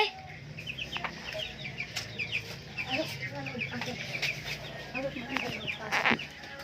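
Chickens cluck and cackle in scattered bursts close by, with a person talking softly in between.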